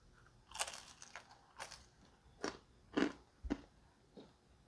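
Several crisp crunching bites into a homemade pizza crust, spaced irregularly and close up, with quiet chewing between them.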